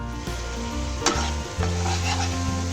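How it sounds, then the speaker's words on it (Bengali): Tomato frying with spices in a pan for a Bengali egg and potato curry, a steady close sizzle with stirring scrapes and a couple of sharper clinks, no voices. "এরপরে আমি টমেটো একটু দিয়ে দিলাম, এইটা কষানোর সময়, ভাজার সময় টমেটোটাও এর মধ্যে দিয়ে দিলাম।"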